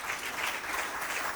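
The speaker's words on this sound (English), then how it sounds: "A round of applause." Steady applause from an audience at a school quiz competition, a dense, even wash of clapping that fills the short moment at moderate level with no voices over it.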